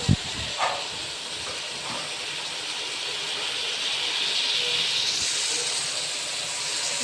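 Lettuce and onion sauté in a pan with a steady, broad sizzling hiss that holds throughout and brightens slightly toward the end, after a couple of faint knocks at the start.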